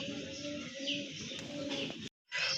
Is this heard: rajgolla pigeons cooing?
yes